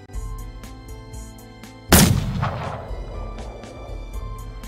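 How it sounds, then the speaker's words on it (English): A gunshot in the video game Seduce Me the Otome: one loud, close blast with a long, rumbling decay, followed by fainter shots over a steady game soundtrack. "Those are gunshots."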